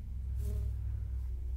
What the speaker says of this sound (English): we have our army of bees that will kill you immediately